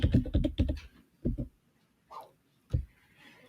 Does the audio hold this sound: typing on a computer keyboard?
yes